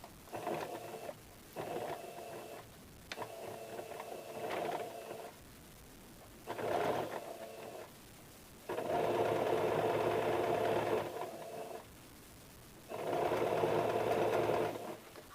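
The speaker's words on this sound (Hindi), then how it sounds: "डार्ट पर सिलाई करके।" A sewing machine stitches darts on a size 40 four-tuck blouse in several short, close bursts separated by brief pauses, with longer runs near the end.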